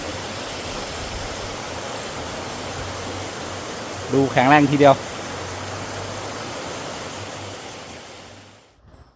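Namtok Yong waterfall in a Thai national park roars steadily and evenly, heard from a cable suspension bridge, with someone speaking briefly partway through before the rushing noise fades out.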